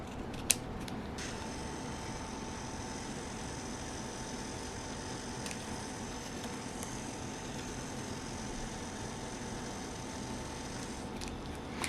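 Scissors cutting printed book cover paper at a desk, faint snips and soft crisp cuts spread across a quiet room hum, with a few sharper clicks near the start and end, no talk.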